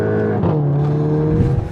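A Mark 8 Volkswagen Golf GTI with a Stage 2 tune drives along, its engine note holding a steady low drone with a swell of revs partway through, loud and close for a short stretch.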